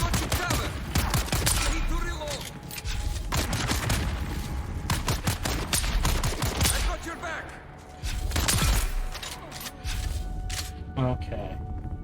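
Bursts of rapid gunfire and thudding impacts fill a combat scene in the video game Dune: Awakening, loud and near, with a player talking over the shooting.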